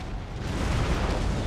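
A deep, rumbling boom of artillery fire rolls out in a battle in Empire: Total War, loud and sustained with no gap through the short stretch.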